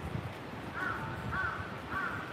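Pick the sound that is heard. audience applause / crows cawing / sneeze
crows cawing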